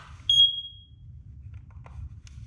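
A smoke detector's test beep, a single piercing electronic tone, rings out briefly, then fades over a low hum, followed by faint clicks.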